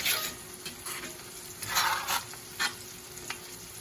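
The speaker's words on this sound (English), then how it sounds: "now it's been searing for about 3 minutes on each side" A rib roast seared in a hot pan, giving a steady close sizzle and frying hiss with brief swells as the meat is moved, with no talking.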